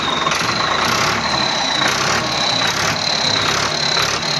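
A New Holland 3630 tractor engine runs near and loud with a fitted aftermarket turbo whistle, a dense steady rumble carrying a high thin whistle that swells and fades in repeated surges as it is revved.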